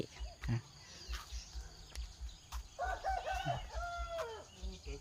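A rooster crows outdoors, a drawn-out call rising and falling midway through, with clucking and other faint bird sounds around it and a low repeated thumping underneath.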